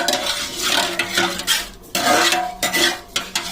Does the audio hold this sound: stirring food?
yes